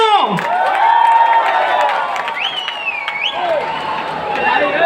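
A dense crowd at a political rally in Surada for the Home Minister's first visit cheers and applauds steadily, with rising whoops and shouts over a continuous roar throughout.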